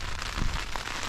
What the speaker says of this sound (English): Mainly stimulating my hearing just by the pitter-patter of rain.